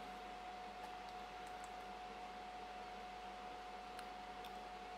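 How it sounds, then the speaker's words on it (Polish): Steady, faint whir of a PlayStation 3 fat 60GB console's cooling fan with a constant hum, unchanging throughout and nothing else over it. "czy po prostu tylko szum tej konsoli"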